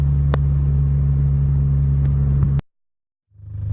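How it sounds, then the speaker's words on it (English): A Ford Probe GT fitted with a T04b turbo idles steadily with a low, even engine hum for about two and a half seconds, then cuts to silence before the engine sound swells back in. "after driving for a little while, it's idling right where it should be now"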